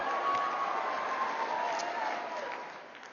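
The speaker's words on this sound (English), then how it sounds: "Give him a round of applause." Faint, distant applause from a conference audience at CPAC in Orlando rolls on steadily, then tapers off, with a thin line of amplified voice over it.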